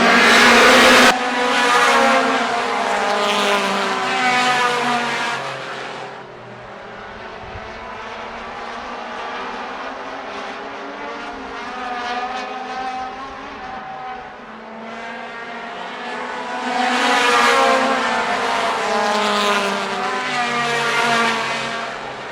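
Front-wheel drive race cars roar around Kalamazoo Speedway, loud engine whines swelling as the pack passes close, fading into distant droning in between, then surging back near again.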